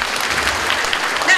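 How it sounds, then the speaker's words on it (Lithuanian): Applause from an audience gathered for a Lithuanian culture program, steady dense clapping filling the whole moment at close, even volume. "Draugų būryje plojimai."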